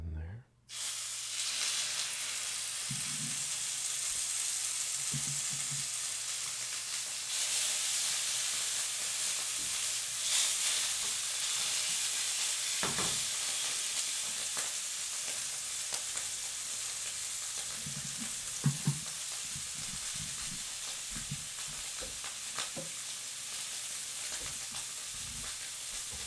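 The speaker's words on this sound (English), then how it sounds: "our oil is hot. Let's get these steaks in there." Steaks fry in hot oil in a pan, a steady close sizzle and hiss that starts suddenly and keeps going, with occasional pops and spatters over the constant crackle.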